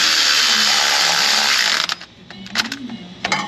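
Ratchet wrench tightening a thermostat bolt on a Jeep Grand Cherokee 4.0: a loud steady mechanical whir gives way to short bursts of close, sharp clicking.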